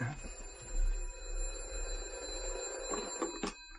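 An old-fashioned telephone rings steadily in a hotel room for several seconds with a bright, sustained tone over low background hum, then cuts off near the end.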